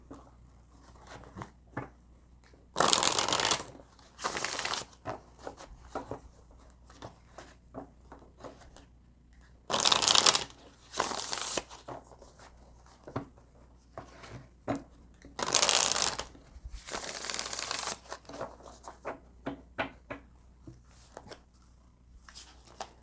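Tarot cards shuffled by hand in a few bursts of loud, crisp riffling, with softer card handling, taps and slides between them; no talking.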